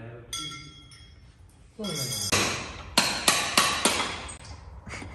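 Metal spanner clinking against a T-34 tank engine, sharp ringing taps in a quick run of about five strikes near the end, close and loud, with a brief spoken word.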